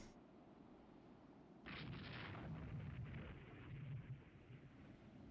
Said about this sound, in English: Where was the gunfire?